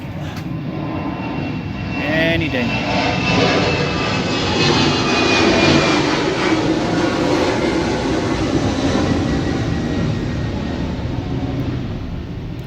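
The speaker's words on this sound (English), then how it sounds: "I got an airplane coming over." A loud aircraft engine roars overhead, swelling to a peak and slowly fading, with a short spoken remark early on.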